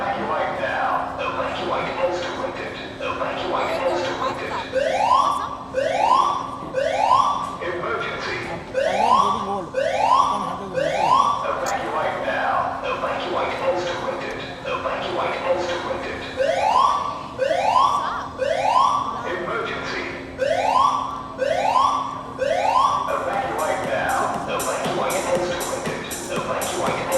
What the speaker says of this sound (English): It's a false alarm.